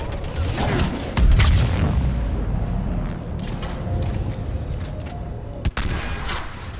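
Sustained gunfire from a Mass Effect 3 firefight, with a heavy boom near the start and a sharp crack later, rolling continuously at close range with no talk.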